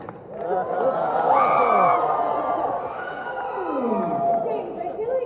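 A convention panel audience at a Star Wars Clone Wars event applauds and cheers with whoops and shouts, a loud dense crowd roar that rises, dips and swells again while voices chatter through it.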